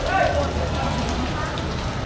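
Heavy rain pours steadily at an outdoor livestock market where goats are sold, a dense, close hiss drumming on surfaces throughout with no break.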